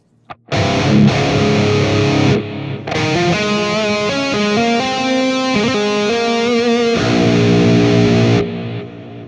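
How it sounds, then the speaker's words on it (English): A distorted electric guitar played through an AX8 processor plays a sustained lead line, notes ringing out with delay repeats and a lingering reverb tail. "I'm fairly happy with that delay and reverb sound."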